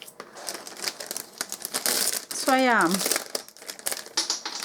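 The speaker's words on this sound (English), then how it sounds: "Sorry about the rustling, that was really loud there" Card-making supplies packaging rustles and crinkles loudly and close by in dense bursts, while someone speaks briefly over the noise.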